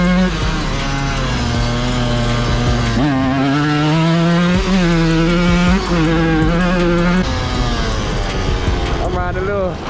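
A Yamaha YZ125 two-stroke dirt bike engine buzzes loudly and continuously while ridden, its pitch rising and falling with throttle changes and gear shifts, close to the listener.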